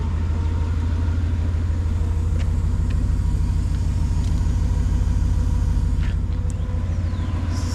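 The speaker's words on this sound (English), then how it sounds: "Sounds like what an M116 should sound like to me." 1989 Mercedes-Benz 420SEL with the M116 V8 heard from inside while driving, a steady, smooth low engine rumble with road noise, constant and fairly loud, no talking.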